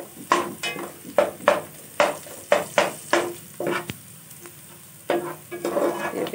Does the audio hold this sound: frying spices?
yes